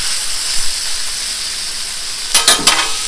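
Bacon fries on a hot Blackstone griddle with a steady, bright sizzle. A few louder crackles and pops break through near the end.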